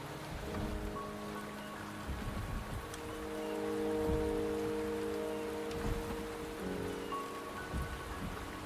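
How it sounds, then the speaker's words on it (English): Steady rain falls in the video game Wuthering Waves, a soft continuous patter under layered ambient music tones, with no talking. "The rain is subsiding, and the sky will soon clear."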